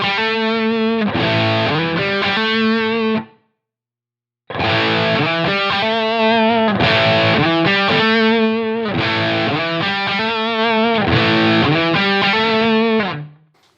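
Electric guitar with a solo boost pedal placed before or after the amp plays distorted, sustained lead phrases, loud and upfront, with one brief pause midway.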